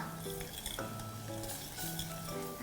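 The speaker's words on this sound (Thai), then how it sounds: "เราต้องคอยคนอยู่ตลอดนะคะ" Metal spoon scraping and clinking around a pot as Thai green chicken curry cooks and sizzles steadily underneath, close and fairly loud, with no talking.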